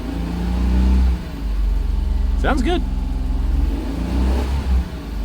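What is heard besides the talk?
JDM car engine given gentle revs at auction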